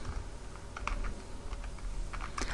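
Keys clack on a computer keyboard as a new sheet name is typed into an MS Excel workbook, a few short bursts of taps close by, with no one speaking.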